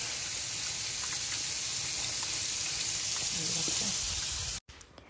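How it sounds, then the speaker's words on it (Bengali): Fried chicken, potato chops and other iftar snacks deep-frying in hot oil give a steady, close, continuous sizzle that fills the clip before cutting off abruptly near the end. "এখানে সব ভাজা পড়া শুরু হয়েছে"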